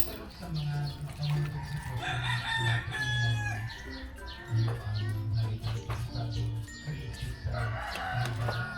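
A rooster crows and chickens being sold by a vendor cluck repeatedly over a busy, noisy background, with people talking nearby.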